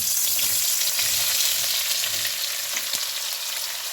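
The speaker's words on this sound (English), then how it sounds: "going to fry those up and get them nice crispy and crispy brown color to them" Red potatoes and onions fry in a hot pan, making a close, steady, hissing sizzle with faint stirring scrapes and no voices.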